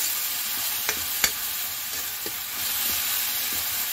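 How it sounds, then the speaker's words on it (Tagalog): Mushrooms sauté in a hot pan with a steady sizzle, while a few sharp scrapes and knocks of stirring break through, all without any talk. "ginisa na uhong, lamit ka ayo."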